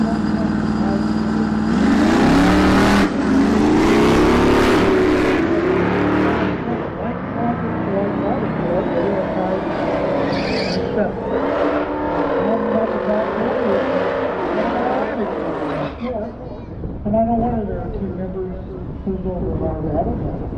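Modern Dodge muscle cars, a Demon and a Redeye Hellcat, drag racing: loud engine roar and revving dominate, swelling early as cars launch, with a commentator's voice talking over the engine noise throughout.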